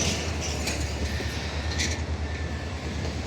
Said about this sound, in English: So I guess the train comes through here every day or something.